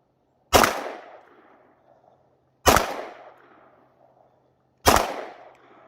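Five gunshots fired at a door target ring out one at a time at a steady pace, each a loud, sharp crack. Every shot is followed by a decaying echo and quiet before the next. No one speaks.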